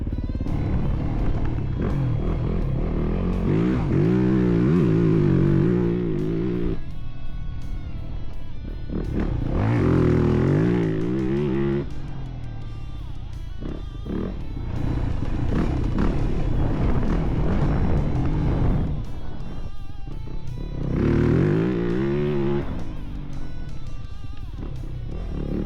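Yamaha YZ450FX dirt bike fitted with a hydraulic clutch, ridden on a trail, its engine rising and falling in repeated revving bursts with gear shifts, loud and close with wind and chassis clatter.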